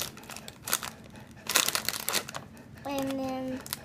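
Plastic chip bag crinkles and crunches in bursts as scissors cut a hole into it, close and fairly loud, with a brief tonal squeak near the end.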